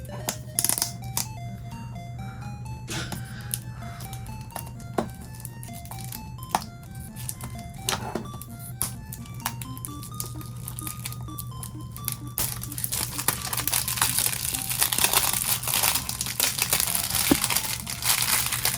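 Plastic wrap on a Nintendo World Championship NES game case crinkles and tears up close, with scattered crackles building into denser, louder rustling toward the end over faint background music.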